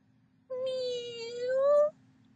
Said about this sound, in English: Meow, cried Snoop, as he came slowly out of the box